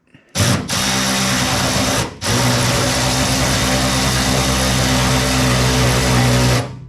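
A wrench tightens a 9/16 bolt on the gas tank of a 1969 B-body car, making a loud, steady mechanical whir that runs for several seconds with one brief break.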